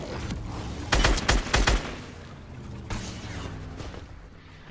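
Rapid bursts of gunfire in the Fortnite video game, loud clustered shots that crackle over a steady background of game noise, with no talking.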